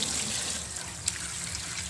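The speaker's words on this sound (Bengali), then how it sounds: "এই জন্য চিকেনটাকে ভালোভাবে ধুয়ে নেব।" Chicken being rinsed under a running tap for chicken keema snacks, a steady close trickle of water splashing in a sink with a couple of brief louder splashes, no talking.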